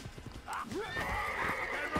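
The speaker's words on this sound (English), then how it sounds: "No! My horse!" A horse in the video game Assassin's Creed 2 clip-clops with quick hoofbeats and then lets out a loud, drawn-out whinny close at hand.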